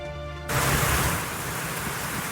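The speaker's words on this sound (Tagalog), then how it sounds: "Ramdam naman ang malakas na ulan sa ilang ah, bahagi ng Daet, Camarines Norte." Heavy rain pours down in Daet, Camarines Norte, a dense, loud hiss that bursts in suddenly after a brief quieter moment and then holds steady.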